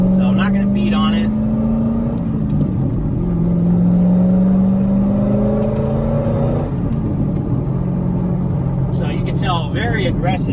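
A straight-piped 2007 Corvette Z06 cruises in 4th gear with a loud, steady, deep exhaust drone and gently rising and falling revs. A voice speaks briefly at the start and again near the end.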